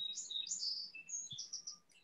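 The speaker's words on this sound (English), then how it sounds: "there's so many birds" Birds chirping over wetlands and vernal pools in East Orleans, a series of high, bright tweets and short whistled calls overlapping one after another, fairly faint and distant with no talking.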